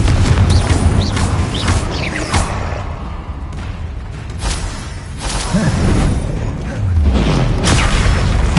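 Confringo spell blasts in Hogwarts Legacy, a string of loud booming impacts with whooshes, several bursts in quick succession amid combat effects.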